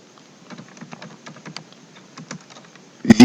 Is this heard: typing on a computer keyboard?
yes